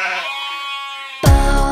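A sheep bleats loudly at close range in one short, quavering call that follows a few moments of voiced tones.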